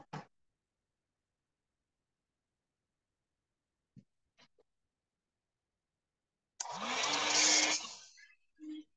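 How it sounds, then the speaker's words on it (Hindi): A hair dryer switches on and blows with a loud, steady whir for about two seconds while drying a watercolour painting, after a long near-silence broken by a few faint knocks, then cuts off with a brief hum. "मेरे पास है वो हेयर ड्रायर, इसको ड्राई करते हैं।"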